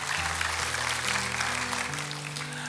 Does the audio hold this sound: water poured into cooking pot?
no